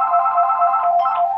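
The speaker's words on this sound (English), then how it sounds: "And there's the phone." A telephone rings loudly and close by, a sustained electronic ringtone with steady tonal pulses and no voices over it.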